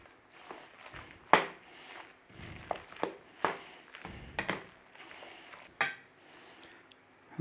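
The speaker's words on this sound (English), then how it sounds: "We need to be going in there with our beaten egg. Nice little stir through." A spoon works beaten egg into a pudding mixture in a bowl, giving quiet scraping strokes broken by sharp clinks of metal against the dish, irregular and close with no speech over them.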